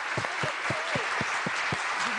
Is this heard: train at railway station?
no